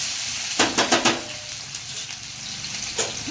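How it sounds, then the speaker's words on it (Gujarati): Garlic and green chillies sizzle in hot oil in a pan, with a burst of quick stirring clatters early on, then a steady frying hiss punctuated by occasional scrapes. "આ લસણ ને લીલા મરચાં થોડી વાર હલાવી નાખીશું"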